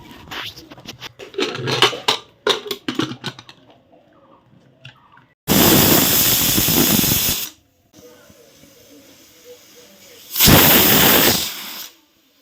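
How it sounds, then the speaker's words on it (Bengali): A pressure cooker cooking vegetables lets out two loud, steady hissing bursts of steam, each about two seconds long, after a stretch of scratchy kitchen handling noises at the start. "এবার দিয়ে দেবো প্রেসারে, ওই 2 থেকে 3টের মতো সিটি দিব, যেন একটুখানি সেদ্ধ হয়ে যায়।"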